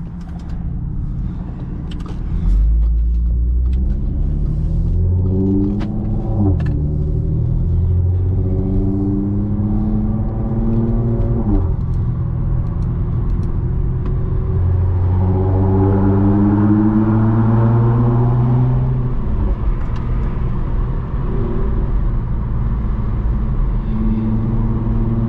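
Supercharged Audi car driving at night through city streets, its engine a loud, steady low rumble with rising and falling tones as it accelerates and shifts, continuous throughout with traction control switched off.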